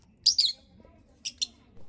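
Fischer's lovebirds in an aviary, a few sharp, high chirps in short bursts close by, with quiet gaps between them.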